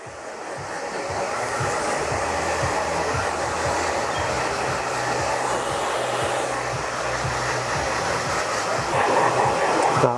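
Hair dryer blowing a man's freshly cut short back-and-sides hair forward, a loud continuous roaring whoosh held close and steady throughout, with no talk.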